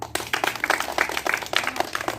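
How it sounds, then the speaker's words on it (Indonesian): Schoolchildren at a long jump practice lesson burst into brisk, scattered clapping for a classmate, a dense patter of many small hands close by, with no talk over it. "Tepuk tangan untuk Dewo Pino."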